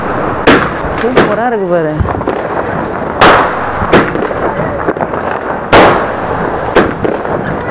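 Aerial firecrackers shoot up and burst at a home celebration, several loud sharp bangs spaced a second or two apart, with a rising whistle before one burst and people talking between the explosions.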